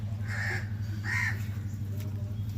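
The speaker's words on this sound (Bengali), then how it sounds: "বাবা কাকটা কিভাবে ডাকছে দেখ" Two loud, close crow caws in a row, harsh and drawn out, heard over a steady low hum in a home kitchen where fish curry is cooking.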